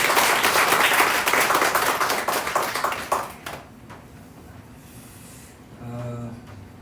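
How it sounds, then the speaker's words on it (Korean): A church congregation gives a burst of applause during a Korean Sunday thanksgiving service. The clapping is dense and loud for about three seconds, then thins out and stops, leaving quiet room sound. "우리 하나님께 영광의 박수 드리겠습니다."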